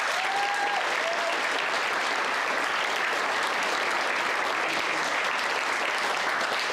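A large audience at a school Shakespeare performing competition grand final claps steadily and loudly throughout, a dense continuous wash of hands with no talking over it.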